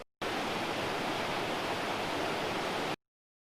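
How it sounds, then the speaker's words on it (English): Waterfall at Wyoming Brook in woodland, a steady broadband rush of falling water that stays loud and even from start to end, with no voices. "There's waterfalls."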